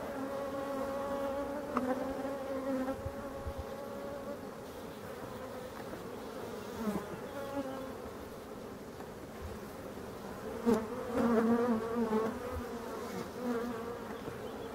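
A dense swarm of honeybees buzzes steadily around beehive supers and frames during a chestnut and linden honey flow, a continuous layered drone with individual bees swelling louder as they pass close.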